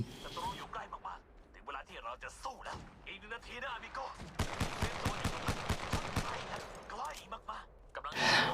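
Rapid gunfire bursts from the mobile shooter Apex Legends Mobile, a dense run of sharp shots in the middle with scattered single shots around it, loud and close, mixed with in-game effects.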